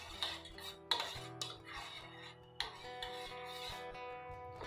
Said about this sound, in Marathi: व्यवस्थित खालीच मिक्स करून घ्यायचं आहे.